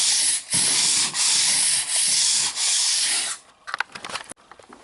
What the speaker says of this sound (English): just gotta let the sandpaper do the work. And do your long sanding.